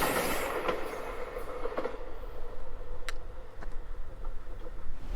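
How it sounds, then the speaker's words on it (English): An Amtrak 98 northbound Silver Meteor passenger train rolls past on Seaboard Coast Line track, a steady close rumble with occasional sharp wheel clicks and faint squeals, no voices. "Amtrak 98, the northbound Silver Meteor"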